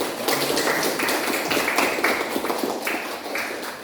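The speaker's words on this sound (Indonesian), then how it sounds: "Tepuk tangan." Students in a classroom clapping for a class group, a dense, lively patter of many hands with rhythmic accents, fairly close and steady, with no talk over it.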